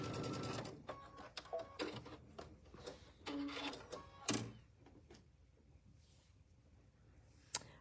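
A home sewing machine stitches quilt blocks together in rows, running in short, close, rattling bursts separated by pauses and clicks, with no talking over it.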